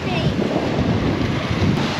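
Ocean waves surging up through a small rocky blowhole on the Yorke Peninsula coast, a continuous loud rushing wash with wind buffeting, and a voice faintly present.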